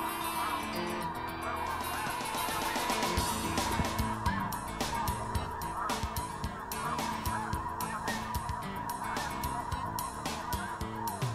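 Flock of snow geese honking during a goose hunt in Arkansas, a continuous chorus of overlapping calls near and far with sharp clicks and knocks scattered across it.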